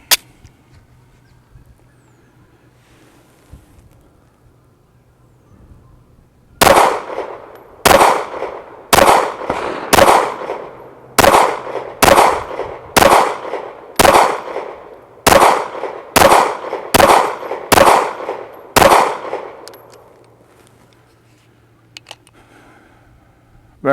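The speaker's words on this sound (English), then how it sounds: "this will be our last magazine of 135 grain jacketed hollow points from LAX in the IWI Masada Slim" A rapid string of about fifteen sharp, loud 9mm pistol shots from an IWI Masada Slim firing 135 grain jacketed hollow points, evenly spaced, each crack with a short echo tail, quiet before and after.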